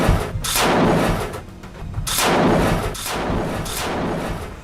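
Rockets fired one after another from the ground in a war zone, a series of loud roaring whooshing blasts in close succession, each swelling and fading, with a continuous rumbling noise between them.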